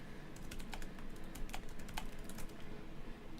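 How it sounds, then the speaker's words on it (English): Keys on a computer keyboard clack in quick, irregular bursts as a message is typed, close and fairly quiet, with no talk. "you just type in a message and send it"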